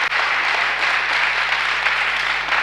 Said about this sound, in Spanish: Denle fuerte el aplauso al Señor